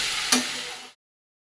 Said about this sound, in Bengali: ভালো করে মশলার সাথে লাউটাকে মেরে একটু ঢেকে দেবো